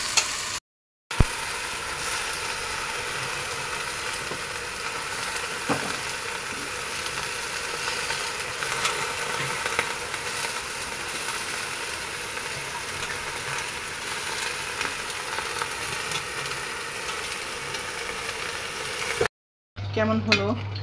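Garlic, onion and cumin paste frying in a pan, a steady close sizzle running throughout with occasional clinks of a utensil against the pan.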